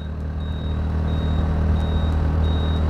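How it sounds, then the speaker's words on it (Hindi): A vehicle driven slowly through fog, struggling for power on the road, gives a steady loud low rumble with a faint thin high tone running through it, close and continuous with no talk. "आवाज़ कर रही गाड़ी"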